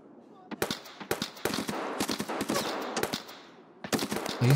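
Automatic gunfire in the video game Escape from Tarkov, with several rapid bursts of sharp cracking shots close by, separated by short gaps and ending in a final burst.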